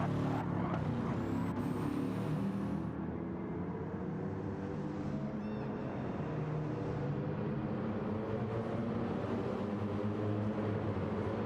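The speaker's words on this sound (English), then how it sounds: "doesn't that car sound spectacular?" A GT3 race car engine in a racing video game practice session drones continuously and loudly, its pitch rising and falling through gear changes with no speech over it.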